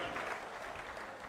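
Brief, fairly faint applause from an audience at a public farmers' event, a short burst of many hands clapping together at some distance.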